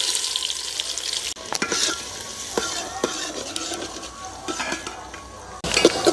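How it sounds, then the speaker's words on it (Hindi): Chopped onions hit hot oil and tadka in a handi pot and sizzle steadily for Hyderabadi chicken dum biryani, with a spoon stirring and scraping at intervals and brief clinks against the pot. No one speaks. "यहीं पे हम डालेंगे प्याज।"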